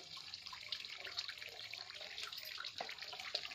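Water pours steadily from a hydraulic ram pump lifting well water, a faint, continuous splashing flow with small irregular drips and spatters, heard alone without talk.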